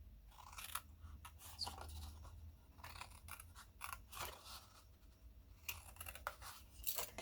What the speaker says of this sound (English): So these score lines I'm going to cut up straight